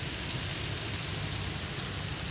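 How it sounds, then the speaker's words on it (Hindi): Rain pours steadily outside a college campus, a constant broad wash of drops hitting surfaces, unchanging throughout with no speech. "तो बैठे बैठे अभी बारिश शुरू हो गई"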